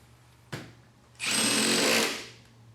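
A Milwaukee M18 Surge hydraulic impact driver runs for about a second driving a fastener, a loud, steady whirring burst after a short click, then tapering off quietly.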